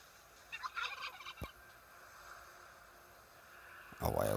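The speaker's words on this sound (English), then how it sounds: "A wild turkey." A wild turkey gobbles in the survival video game Last Day On Earth Survival, a short burst of rapid gobbling calls followed by game effects and a louder splashing noise at the end.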